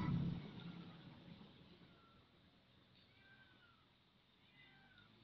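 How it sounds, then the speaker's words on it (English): A cat meows once near the start in a video game, fairly loud, followed by quiet background hum and faint distant mewing sounds. "Someone's meowing."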